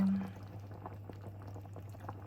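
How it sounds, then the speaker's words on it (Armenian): Fish soup bubbling steadily in a pot, with a low constant hum and faint irregular pops and gurgles throughout. "սպասենք եփվի"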